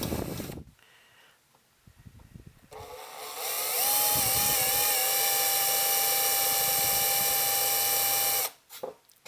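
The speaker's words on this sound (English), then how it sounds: "So I'm going to kind of drill down a little bit and kind of go at an angle like this" A power drill bores into a tube amplifier chassis with a loud, sustained whine of a few seconds that wavers slightly in pitch, preceded by brief handling clatter and followed by a sudden stop.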